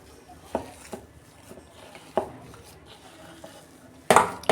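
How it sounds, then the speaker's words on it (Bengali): Spices being mixed into a red potato cutlet mixture in a home kitchen, heard as a few separate scrapes and knocks of a utensil against a bowl, then a louder clattering burst near the end, with no talk. "এইটার সঙ্গে আমি ভালো করে মশলাটা মিশিয়ে নেব"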